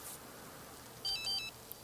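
A telephone rings in The Sims 3, giving a brief electronic ringtone of two short chirping trills, faint and clean against quiet background, with no talk over it.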